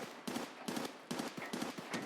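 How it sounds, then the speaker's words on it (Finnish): Bursts of rapid gunfire in a video game, about five short automatic volleys in quick succession with brief gaps between, moderately loud and without talk. "täällä ammutaan niin paljon"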